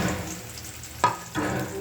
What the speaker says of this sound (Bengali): তো এগুলো ভালো করে কষায় নিই।